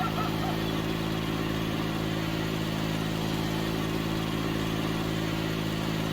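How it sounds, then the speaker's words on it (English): A Case IH 235 lawn tractor mower in Farming Simulator 19 runs steadily with a loud, even engine drone at constant revs, continuous through the whole stretch. "Hear the engine roar up."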